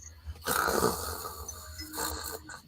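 A voice imitates a man snoring during a Call of Cthulhu tabletop game session, giving two drawn-out, rasping snore breaths, the first longer and louder, close and fairly quiet.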